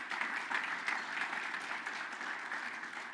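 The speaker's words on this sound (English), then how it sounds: "a round of applause for our platinum sponsors." Conference audience applauding platinum sponsors at a technology forum, a steady, fairly distant patter of many hands clapping throughout, even and moderately quiet.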